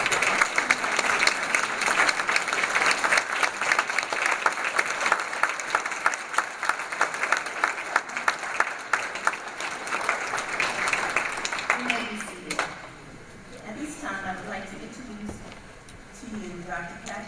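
Audience at a scholarship awards ceremony applauds the 2008 Hillman Entrepreneurs Program scholars with dense, sustained clapping that fades away near the end, after which a voice speaks.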